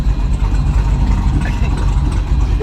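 An LS-swapped Cadillac Escalade sits running at idle, putting out a steady, close, low rumbling engine burble that holds even throughout, with no voices.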